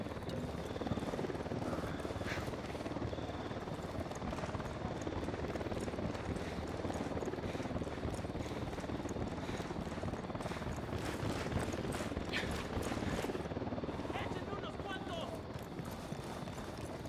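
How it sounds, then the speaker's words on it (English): A helicopter in Ghost Recon Wildlands approaches as a steady, dense rotor throb that fills the whole stretch at an even level, with faint scattered clicks and noises layered on top. "Chopper incoming."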